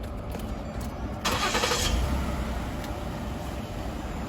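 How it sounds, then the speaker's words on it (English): A Tulare police car engine cranks with a short burst of starter whir and catches, then settles into a low, steady idle. It is heard close by, with a faint high whine in the background. "I'll start the car for you."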